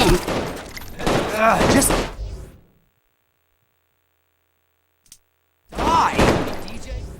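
Bursts of rapid gunfire from a new weapon in the Saints Row IV video game, two loud clusters separated by silence, with game voices speaking over the shots.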